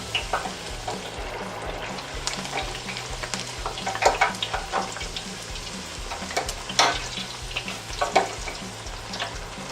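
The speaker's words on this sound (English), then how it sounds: "as soon as you put a cold tortilla in this small of a deep fryer, it instantly cools down" A cold tortilla fries in a small deep fryer filled with hot oil, giving a close, constant sizzle and bubbling with scattered pops and crackles.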